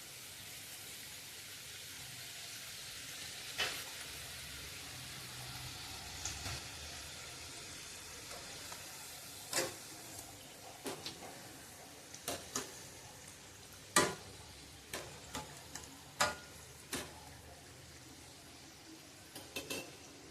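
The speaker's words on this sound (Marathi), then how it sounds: "त्या पण चांगल्या गोल्डन कलर येईपर्यंत आपण दोन्ही साईडने चांगल्या तळून घेतलेल्या आहेत" Fresh-coconut karanji pastries fry in oil on a low flame with a soft, steady sizzle. Sharp clicks and pops come at irregular intervals, and more of them arrive in the second half.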